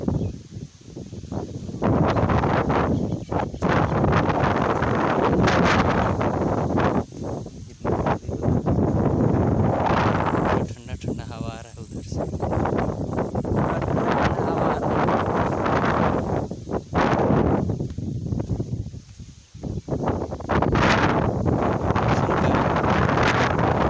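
Strong wind roars and buffets the microphone almost nonstop during stormy weather with thunder and drizzle, a loud, dense rushing noise that dips only briefly a few times.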